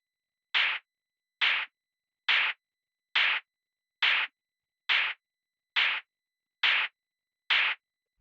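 Trance noise clap sample without gate or compression, nine identical bright bursts of hissing noise at a steady even pace, each with a short tail, separated by silence.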